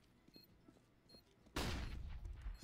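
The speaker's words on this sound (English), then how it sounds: "Running AK headshot from Death." AK rifle gunfire in a Counter-Strike match erupts as a sudden loud burst of rapid shots after a quiet stretch of faint in-game clicks and footsteps.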